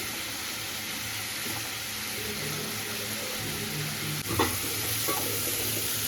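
Vegetables with ginger and raisins frying in a pan for vegetable fried rice, a continuous dense sizzle with stirring and a sharper scrape near the end, no talking.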